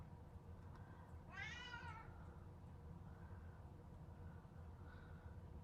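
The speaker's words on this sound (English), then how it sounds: "And apparently the cat wants to help us like make a layout." A cat lets out a single drawn-out meow indoors during a crafting session, faint against a steady low room hum, followed by a couple of softer chirpy sounds.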